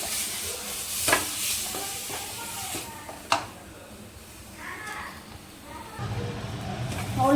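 Mutton with ginger-garlic paste sautéing in a pan for mutton khola, a steady sizzle broken by a few spoon scrapes and knocks as it is stirred, with a voice speaking over it.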